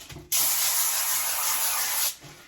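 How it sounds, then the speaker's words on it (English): Cooking spray hisses from a can onto pans during vegan curry cooking for a crowd, one steady, close spray burst of about two seconds with brief quiet before and after. "I'm going to spray my pans first."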